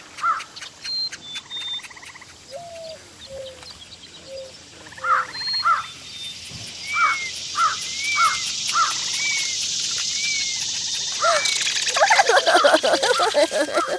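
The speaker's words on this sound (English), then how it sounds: "having the sounds of the forest get super loud" Loud forest ambience from a Moral Orel cartoon episode, with birds chirping and crows cawing in repeated bursts over a dense insect-like hum that swells and grows louder toward the end.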